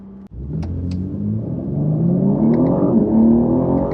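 A BMW G8x Competition fitted with a RaceChip GTS Black tuning module accelerates hard, its engine rumble rising steadily in pitch and loudness from inside the car, with a couple of faint clicks early on.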